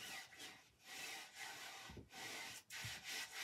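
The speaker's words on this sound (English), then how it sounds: "So now I'm just going and I'm rubbing this down so that it does not" Material being rubbed down flat by hand so it will not wrinkle, giving repeated dry scratchy strokes with short pauses between them, very quiet and close.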